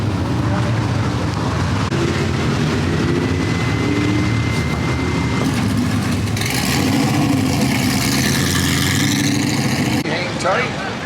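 Race truck engines at Citrus County Speedway, a loud continuous mid-pitched idle and rumble with occasional revving, close by, with people talking over it.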